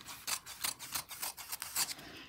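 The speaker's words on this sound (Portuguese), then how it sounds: "E a gente vai refilar o excesso de forro." Scissors trim excess lining fabric while sewing a men's toiletry bag, giving a series of close, crisp snips and fabric rustles in an irregular rhythm with no talk.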